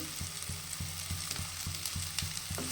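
Mashed pumpkin greens with turmeric, salt and a little sugar sizzle steadily in a hot pan while a spoon scrapes through them in a regular stirring rhythm, close by with no talking.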